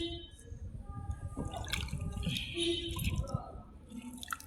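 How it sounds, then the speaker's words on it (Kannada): Potatoes and tomatoes are rinsed by hand in water, giving soft splashes, drips and wet squishing sounds close by, with quiet talking in the background. "ಆಲೂಗೆಡ್ಡೆಗೂ ಸ್ವಲ್ಪ ನೀರು ಹಾಕ್ಬಿಟ್ಟು ತೊಳಿಬೇಕು ಚೆನ್ನಾಗಿ."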